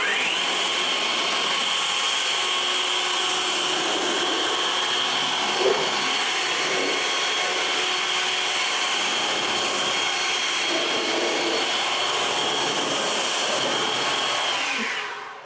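A leaf blower dries a freshly rinseless-washed car coated with Labocosmetica Idrosave, a loud, steady roaring whine held for about fifteen seconds before cutting off abruptly.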